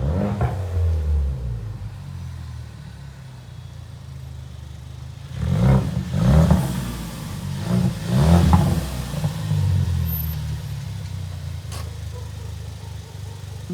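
A car pulls up nearby: a low engine rumble idles, then swells in a few revving surges before settling back to a steady idle.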